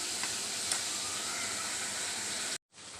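Chicken pieces fry and get stirred in a karahi, a steady close sizzle with soft scraping that runs unbroken, cuts out briefly near the end, then resumes.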